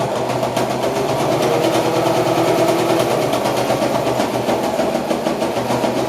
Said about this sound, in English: Now I'm going to sew on the same side here